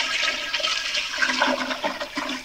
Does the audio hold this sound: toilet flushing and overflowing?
yes